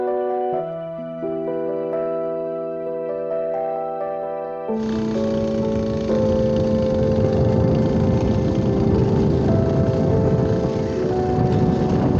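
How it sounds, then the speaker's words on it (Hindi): A boat engine starts partway through, then settles into a loud, steady idle that runs continuously to the end, with tonal hum before the start. "तो सुबह सुबह आए हैं इंजन स्टार्ट करने के लिए।"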